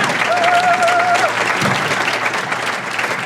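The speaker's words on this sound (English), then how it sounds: "Tricia, stand up and how about a round of applause for Tricia?" Guests at a chamber of commerce annual dinner applaud with even, sustained clapping across the room that thins a little near the end.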